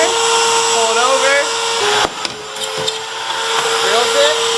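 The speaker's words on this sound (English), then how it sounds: "I'm going to use this machine we have called a pocket hole drill" A pocket hole drill machine bores into wood with a loud, steady high-pitched whine that runs continuously, dips briefly mid-cut with a few knocks, then rises again.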